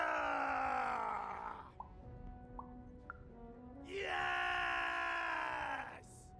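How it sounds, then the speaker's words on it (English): A warrior in the video game Lost in Random lets out a loud, drawn-out battle cry, then a second long scream after a short pause broken by a few faint ticks. "We need to scream so that our enemies know that we're here!"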